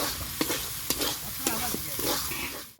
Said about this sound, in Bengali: ভালো করে মশলাটা কষিয়ে নেব যতক্ষণ না মশলা থেকে তেল ছাড়তে শুরু করে